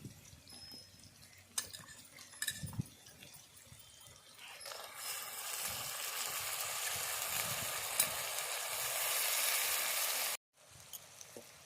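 Chickpeas and sun-dried vegetables go into onion and tomato frying in a pan for a village-style kuzhambu, first a few clinks and stirs, then a steady close sizzle that builds and runs on, with a brief break near the end.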